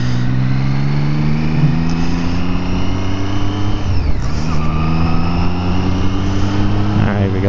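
A Triumph Street Triple R motorcycle engine revs loudly and steadily, its pitch climbing through each gear, with a brief dip at a gear change midway before the drone rises again.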